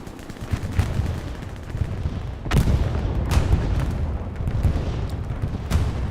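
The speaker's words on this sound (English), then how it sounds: "This is Katuska's coming out from Helios." Katyusha rocket artillery in Hell Let Loose on the Stalingrad map: a few sharp, distant booms and impacts land amid a constant rumble of battlefield gunfire.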